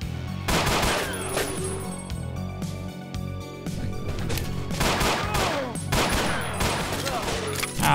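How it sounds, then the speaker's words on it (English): Gunfire in the video game Ashes 2063, with loud bursts of rapid shots and fusillades repeating across the scene and overlapping one another. "Who the fuck is shooting at me?"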